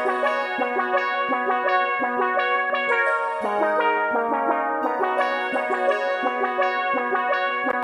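Synthwave melody with a bright bell synth channel layered over a lead line, plucked bell-like notes in a quick repeating motif with a lower line stepping beneath, steady and clear with no talking.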